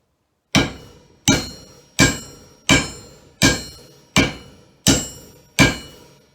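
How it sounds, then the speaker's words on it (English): A hammer strikes bottomed-out steel eight times at an even, steady pace, each blow a sharp close clang that rings and decays before the next. "you hear the ring of the steel because it's bottomed out"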